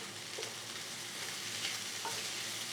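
Chicken with garam masala sizzles softly in a pan, with a steady frying hiss and a couple of light stirring scrapes, no voices.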